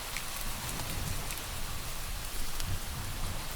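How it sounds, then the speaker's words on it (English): Steady rain pattering on a roof, a dense, even hiss with faint individual drops and a soft low rumble throughout, no voices. "the rhythmic whisper of rain on the roof"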